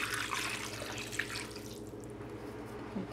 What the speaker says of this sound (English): And then I'm going to go ahead and throw in the beef broth.